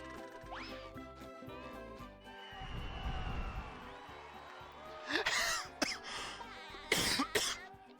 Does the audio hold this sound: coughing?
yes